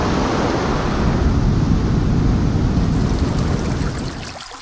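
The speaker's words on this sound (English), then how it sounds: "ocean," Ocean waves roar as a loud, dense wash of surf and spray, holding steady before easing off near the end.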